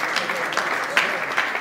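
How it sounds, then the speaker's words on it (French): An audience claps at an awards ceremony, a brief, dense patter of applause heard from a moderate distance, steady and unbroken with no voices. "Sous vos applaudissements, Willy Mambou, ce soir avec nous."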